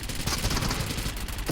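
Repeated gunfire from a shotgun in the BGMI mobile battle royale game during a team deathmatch, dense loud shots and bursts filling the short moment with no speech.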